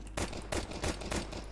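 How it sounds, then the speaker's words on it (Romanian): Rapid bursts of gunfire and blasts from a Counter-Strike 2 match, loud and close, coming in about four thick clustered volleys with dense crackling between them. "Când vă zic eu faceți explozii."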